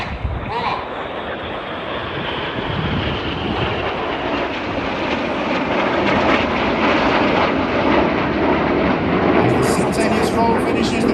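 Display aircraft flying in formation at the Tallinn air show: a loud, continuous roar of engines that swells slightly over the span, with no pause or break.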